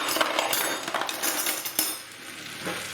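Spoon and cutlery clinking while cooking chicken pathia, light metallic taps and scrapes near the pan over a steady frying sizzle, with a thin high whine in the background.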